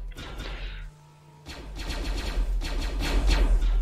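Gunfire in the Roblox game Coruscant, sharp broadband bursts that come in quick clusters and get denser and louder toward the end, after a brief quieter gap with a steady game hum underneath.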